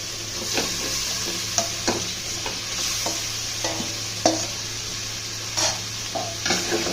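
Chicken pieces frying with spices in a pan, a steady close sizzle broken by repeated scraping stir strokes, with no voices.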